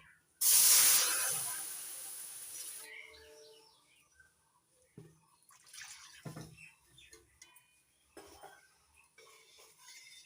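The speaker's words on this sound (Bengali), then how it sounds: "দুই কাপ গরুর দুধ দিয়ে দিলাম" Two cups of liquid cow's milk pour into a pan of fried semolina, making a loud, close, rushing hiss for about two seconds. Faint clinks of utensils and quiet kitchen sounds follow.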